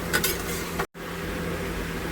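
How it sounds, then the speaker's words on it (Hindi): Brinjal, cauliflower and potato pieces drop into a hot pan on a lowered gas flame and are stirred, giving a continuous sizzle with scraping and clinks of a utensil against the pan, close and steady. "अपना गैस का फ्लेम थोड़ा कम करके आप अभी सब्ज़ी डालेंगे"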